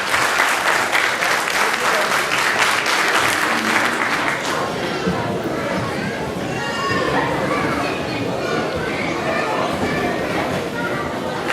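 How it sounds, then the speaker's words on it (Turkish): Audience applause at a stage event of Turkish religious hymn singing, a dense, steady clapping that fills the room loudly and continuously, with crowd noise and a few voices mixed in. "Güçlü bir alkış alalım lütfen."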